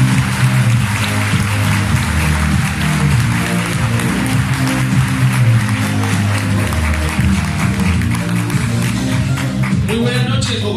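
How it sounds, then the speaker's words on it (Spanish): An audience claps loudly and steadily for about ten seconds, welcoming doctor Jonathan Moncaleano onto the stage at an evening event in Bogotá, with music playing underneath the applause. "Quiero que me ayuden a recibir con un fuerte, fuerte aplauso a nuestro médico de diamante"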